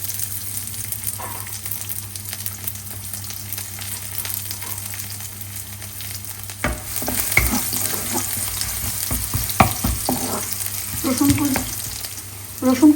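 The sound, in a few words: chopped garlic frying in hot oil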